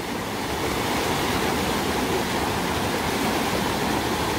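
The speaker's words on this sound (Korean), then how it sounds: "엄청나게 내려옵니다 폭포" A waterfall pouring heavily into a deep pool in the Jijangsan mountain valley, a loud, dense and unbroken roar of rushing water throughout.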